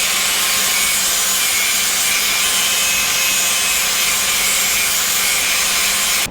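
A bolt from a lowered Dodge Dakota pickup truck is scrubbed clean, making a loud, continuous, close abrasive rasping with no pauses.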